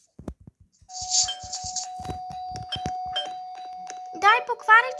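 A doorbell rings with a sustained electronic tone that holds for several seconds, while people talk close by over it and a few clicks and taps sound.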